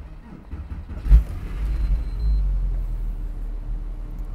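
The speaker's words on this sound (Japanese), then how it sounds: "差し込んでいただいてエンジン始動です。" A Porsche 911 (997) Carrera S Cabriolet starts with a short sharp crank and catch, then settles into a steady low idle rumble that stays close and even.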